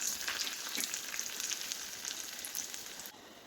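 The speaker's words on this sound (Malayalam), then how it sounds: "പിന്നീട് ഒരു 2 വറ്റൽ മുളകാണ്, അതുകൂടി ഇട്ട് കൊടുത്തൊന്ന് ഇളക്കി കൊടുക്കാം." Shallots and two dried red chillies frying in hot oil for a tempering over moong dal curry, a bright continuous sizzle with small crackles and pops, close and fairly quiet, easing slightly near the end.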